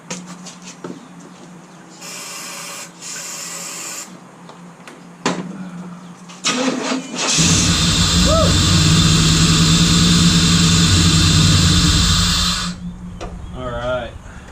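A third-generation Pontiac Trans Am V8 cranks and catches after its distributor timing is adjusted, then runs loudly and steadily close by for several seconds before shutting off, with brief handling clatter beforehand.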